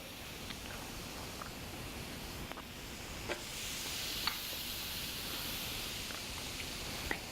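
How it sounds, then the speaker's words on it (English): Quiet, steady sizzling of eggplant slices frying in olive oil in a pan, with faint clicks and pops scattered through the hiss. "hear that sizzle?"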